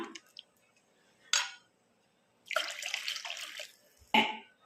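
Water splashes and pours in short bursts into a pot of Kerala fish curry, with a longer steady stream in the middle and a final splash, close and fairly quiet.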